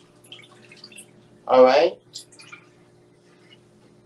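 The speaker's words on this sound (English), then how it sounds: "we're going to drain off this water" Water is drained off raw snapper in a home kitchen: a single brief splash and pour lasting about half a second. The kitchen is otherwise quiet, and someone speaks briefly.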